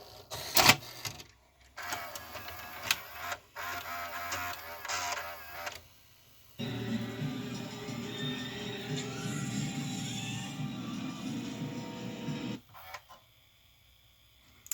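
A Sony SLV-575 VCR running its tape loading cycle, close-up mechanical clicks and whirring motor drives in several separate stages, with a sustained steady hum in the middle and sharp clunks at start and end, no voices.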